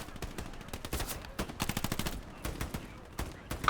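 Rapid gunfire in a World War II-style video game battle against Germans, dense bursts of machine-gun and rifle shots crackling in quick uneven rhythm, loud and close throughout.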